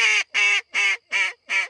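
Five loud, evenly spaced honks from a goose, close by, in a quick rhythmic series, during a teal hunt in Nebraska.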